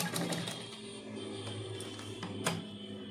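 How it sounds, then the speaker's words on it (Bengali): A sewing machine stitches fabric on a blouse, a fast steady mechanical chatter running throughout at moderate level, with a sharper clack near the end. "এখানে আমি আর একটা সেলাই দিয়ে নেবো"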